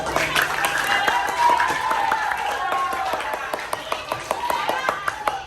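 A school class applauds at the end of a lesson, with a burst of close, steady clapping from many hands under a teacher's voice that keeps talking over it.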